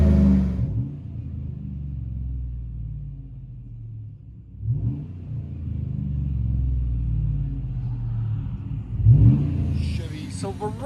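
A 2010 Chevy Silverado LT with a 5.3L V8 and dual Flowmaster Super 10 exhaust rumbles at idle, with two sharp revs around five and nine seconds, recorded close by under some talk.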